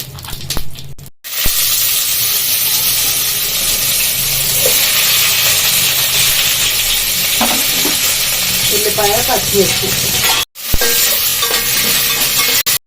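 Whole spices (cinnamon, bay leaf, mace and shahjeera) fry in a pan for chicken pulao, giving a loud, steady sizzle that cuts out briefly twice, with faint stirring sounds.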